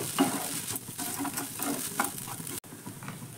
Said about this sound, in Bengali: হলুদ আর লঙ্কার গুঁড়োটা দুটো দেওয়ার পর খুব ভালো করে আবারও মিশিয়ে নিচ্ছি ম্যাগির সঙ্গে